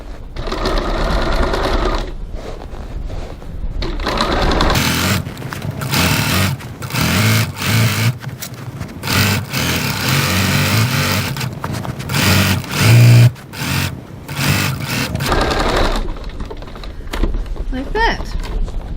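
Sewing machine stitching back and forth over a bag strap tab in bursts, loud and close, with brief pauses between runs and a faint voice near the end.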